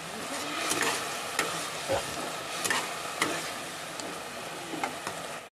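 Hog plum chutney cooks in a pan on a gas stove while a spoon stirs it, giving repeated scraping strokes over a steady, close sizzle with no talking.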